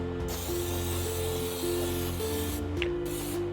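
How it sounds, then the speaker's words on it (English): A can of nonstick baking spray containing flour hisses steadily onto cake pans at a sink. The spray is close and continuous, interrupted by brief pauses and a faint rattle, with no talking. "And then I use a nonstick spray that has flour in it."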